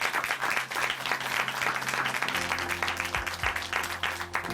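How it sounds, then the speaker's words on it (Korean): A church congregation claps together in sustained, dense applause that stays full and even from start to finish. Soft background music runs underneath. "다시 한번 박수 보내드리겠습니다."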